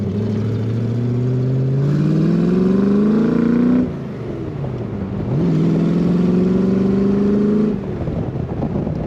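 A 1965 Shelby Cobra replica's V8 engine idles and then revs twice, each rise climbing in pitch for a couple of seconds before dropping back to a rumbling idle, loud and close with no talking.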